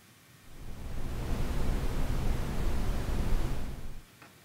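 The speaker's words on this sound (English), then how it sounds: "A minus 3 dB per octave noise." Minus 3 dB per octave noise from a Buchla 266 synth module switches on after half a second, a dense steady rushing hiss with a darker, low-leaning tone that holds for about three and a half seconds and then stops.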